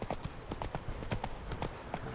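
Horse hooves gallop in a rapid, even clip-clop rhythm in The Witcher 3, a quiet, steady pounding with faint background game ambience and no talk over it.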